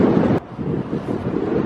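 Strong wind gusting into a microphone beside the frozen Niagara Falls near Horseshoe Falls in winter, a steady roaring buffet that briefly drops out for a moment before surging again.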